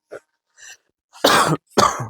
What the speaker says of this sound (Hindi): खांसी क्यों आ रहा है?